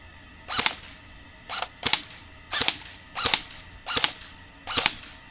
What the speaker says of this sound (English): This is the G&G Combat Machine AK, and we're doing the shooting test.